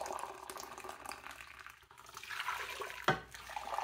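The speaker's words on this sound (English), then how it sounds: "We're going to put 5 cups of water in there." Preheated water pours into a stock pot for blue crab soup, a steady splashing flow that swells louder toward the end, with a brief bump near the close.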